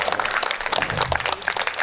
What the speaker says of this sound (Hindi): एक बार इनके लिए बहुत अच्छी तालियां बजा दीजिए।